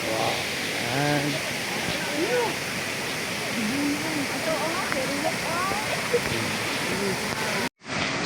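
Cambugahay Falls waterfall roars as a steady broadband rush of falling water close by, while people talk over it throughout before the sound cuts off abruptly near the end.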